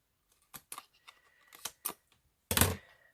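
A few short crisp snips and rustles of scissors trimming a thin strip from a paper junk journal back cover, ending in a louder, longer crunching cut, close by with quiet gaps between.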